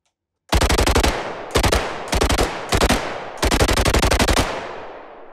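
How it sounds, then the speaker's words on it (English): Synthesized machine gun fire from Krotos Weaponiser plug-in in loop mode, five loud rapid-fire bursts of sharp gunshots with short gaps between them, close and dry, no talking. "The burst mode toggle button beneath the big red fire button puts Weaponiser into loop mode to emulate a machine gun."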